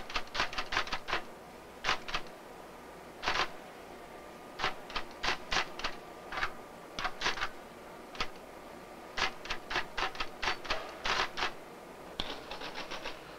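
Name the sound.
typing a sentence on a computer keyboard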